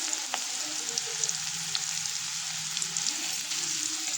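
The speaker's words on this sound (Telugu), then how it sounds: "వేసి ఇలా కొద్దిగా డీప్ ఫ్రై చేసుకోండి." Okra (bendakaya) deep frying in a little oil gives a steady, close hiss and crackle with small popping bursts, continuous and alone without talk.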